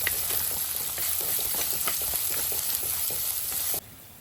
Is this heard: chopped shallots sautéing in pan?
yes